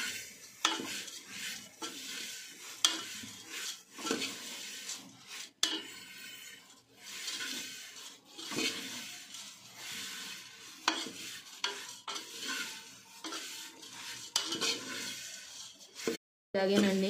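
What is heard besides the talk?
stirring frying ingredients for chuduva in a pan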